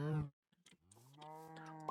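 A cow in a Minecraft modpack lets out a short moo, followed by a longer, steady low moo, close and clear with no talking.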